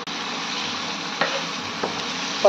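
Baby potatoes being stirred in a frying pan with salt and turmeric, giving a steady close sizzle with a few brief scraping stir clicks, and no voices.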